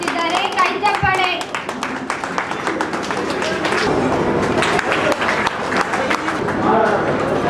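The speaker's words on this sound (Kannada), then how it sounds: "ಕೈ ಚಪ್ಪಾಳೆ." An audience claps steadily and loudly throughout a lamp-lighting inauguration at a Republic Day celebration, dense continuous applause with children and adults talking and calling out over it.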